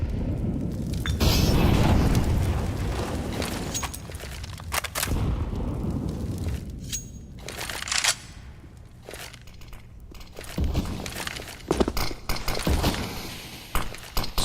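Grenades going off in the video game CS:GO, several deep booms and sharp blasts scattered irregularly, some close and loud, others fainter, over steady game ambience with no talk.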